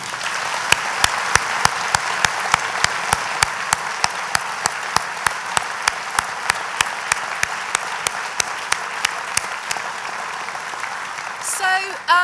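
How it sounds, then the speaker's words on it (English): A graduation ceremony audience applauds in a dense, steady wash that holds for about eleven seconds, with sharp individual claps standing out at a regular beat before it thins at the end. "Please give him a round of applause."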